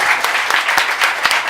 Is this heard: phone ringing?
no